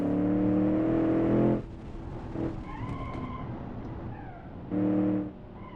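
In a racing video game, a car engine roars at full throttle in a strong droning burst, drops away to quieter road noise, then surges briefly again.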